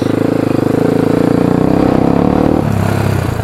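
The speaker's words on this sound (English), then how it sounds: "I just give her a little bit of gas as I'm letting out the clutch slow." A quad bike engine revs up as the clutch is let out during a rev-matched downshift, a loud close throaty burble that rises and then drops sharply near the end.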